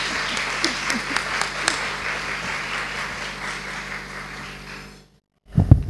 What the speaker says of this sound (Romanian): să mai aplaudați încă o dată pe doamna de lângă mine